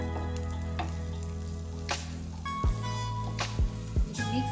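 Pav bhaji with butter and masala being stirred in a hot pan, a low continuous sizzle with a few soft scraping and mixing strokes near the end, close and quiet with no talking.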